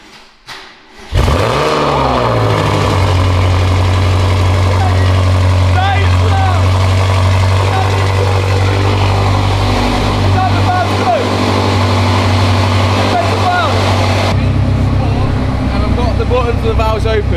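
A BMW M5 Competition fitted with a Remus exhaust and Evolve downpipes fires up after a short quiet moment, the loud start settling into a deep, steady, rumbling idle that holds close and strong until a slight drop near the end.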